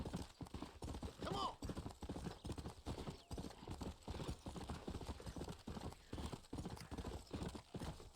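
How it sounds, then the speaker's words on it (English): A horse gallops steadily in the video game Red Dead Redemption, its hoofbeats a quick, continuous clip-clop rhythm throughout, with a brief whinny near the start and game noise underneath. "I think it's the longest horse ride in the game if you follow them"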